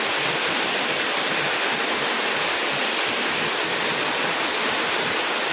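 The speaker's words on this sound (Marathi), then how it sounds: "खूप मोठा पाऊस चालू आहे" Very heavy rain pours down steadily in a hard, dense wash, a loud continuous roar like rushing water with no voices over it.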